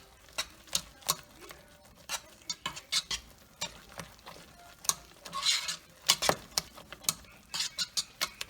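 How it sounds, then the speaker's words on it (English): Spoon stirring cream cheese and shredded cheddar into Cajun grits in a pot, a run of irregular scraping and clinking strokes close by, with brief soft squelches between them and no talk. "we're going to stir until that melts into the rest of the moisture"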